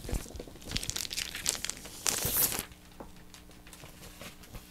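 A package of chipboard stickers is torn open, with loud crinkling plastic and tearing over the first few seconds, then quieter, sparse rustles.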